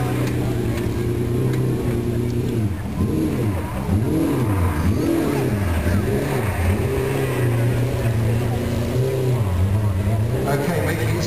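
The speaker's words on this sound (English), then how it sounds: "making its way around, not too subtly, I must admit, is this McLaren F1 GTR" A McLaren F1 GTR supercar driving around a show ground at Beaulieu, its engine note rising and falling steadily and loudly nearby, with a voice talking over the sound throughout.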